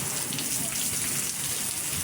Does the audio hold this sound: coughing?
no